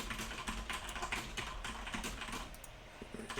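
Steady, rapid typing on a computer keyboard with dense overlapping key clicks that continue without pause, heard close and moderately quiet.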